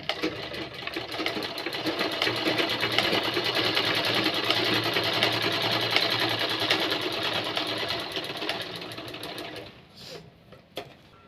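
A sewing machine stitches a frock with a steady, close mechanical whirr for about nine seconds, then slows and stops, leaving a few light clicks.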